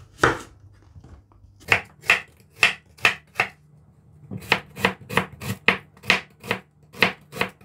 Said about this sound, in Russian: Лук нарезаем на маленькие кубики.